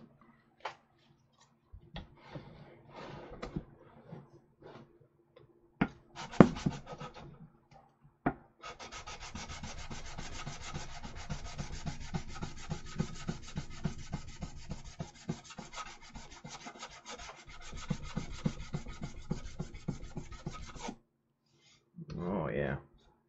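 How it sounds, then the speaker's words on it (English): Steady rasping rubs of a sanding block on a plastic model kit, a long continuous stretch of back-and-forth strokes after a few scattered taps and scrapes. "I think it's time for the sanding block."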